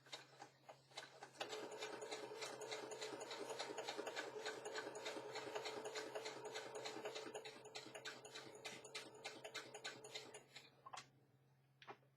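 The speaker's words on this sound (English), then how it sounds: "let me sew down the top" A sewing machine stitches down the top of a handmade paper journal card, running in a fast, steady rattling burst for several seconds before slowing and stopping, heard close and alone.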